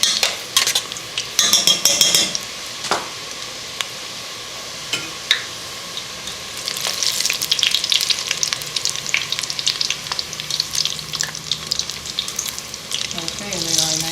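Struffoli dough balls frying in hot oil, a constant bright sizzle with clinks and scrapes of a utensil stirring in the pot, loud and close, with a brief voice near the end.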